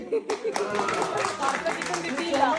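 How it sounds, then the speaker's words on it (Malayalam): Audience clapping at a cooking show after a call for those who like black-style chicken, a dense spread of hand claps continuing under a talking voice. "കറുത്ത ചിക്കൻ ഇഷ്ടമുള്ളവരൊന്ന് കൈയടിച്ച്."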